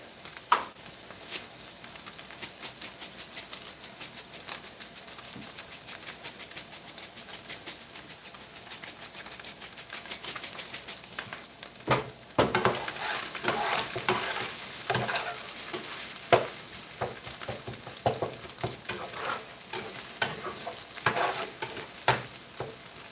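Garlic and chopped onions sizzle and fry in a pan while being stirred, a continuous crackling hiss broken by scraping stir strokes that grow busier and louder partway through.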